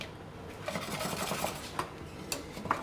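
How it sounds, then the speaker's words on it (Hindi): Spoon stirring a China grass mixture into sweetened liquid in a pot, with soft scraping and light metallic clinks against the pot's sides, faint and close, a few sharper taps standing out. "अब ये इसमें डालूंगी और इसको अच्छी तरह मिक्स कर लेंगे।"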